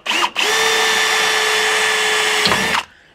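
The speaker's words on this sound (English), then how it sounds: "we're gonna drill and tap this right in place" A power drill whines loudly at a steady high pitch drilling aluminum off-road rock sliders for a couple of seconds after a brief initial burst, then spins down and stops.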